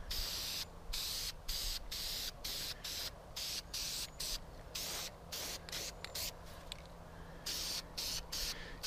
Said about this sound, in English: You take flat white paint and spray the skull with it.